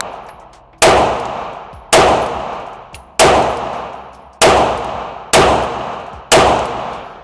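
Six loud single shots from an MP5 clone carbine, evenly spaced about a second apart, each a sharp crack followed by a decaying ring, close to the listener with no talking.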